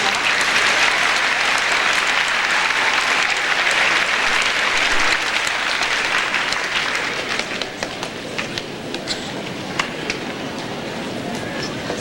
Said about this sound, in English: Let's give all these science fair invention people a round of applause